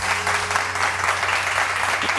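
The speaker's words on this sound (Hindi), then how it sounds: "बहुत सारी तालियाँ शेफ समीना जी के लिए, बहुत सारी।" Studio audience applause for guest chef Sameena on a Pakistani morning show, a steady, dense wash of clapping from many hands that holds evenly for about two seconds, with a low hum beneath it.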